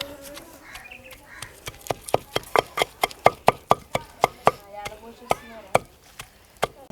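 Onion pounded in a stone mortar, a run of sharp rhythmic thuds at a quick steady pace, close and clear, a few softer hits at the end.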